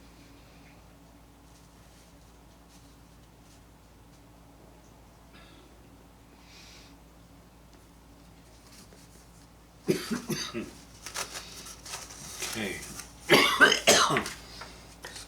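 A few sharp coughs burst out close to the mic after a long stretch of quiet, in two loud clusters near the end.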